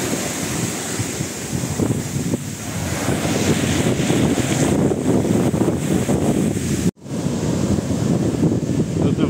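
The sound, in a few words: sea waves washing onto beach at Porto Katsiki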